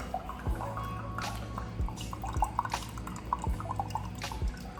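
Water trickles slowly from a low-pressure tap, irregular drips and small splashes falling at an uneven pace, fairly quiet and close.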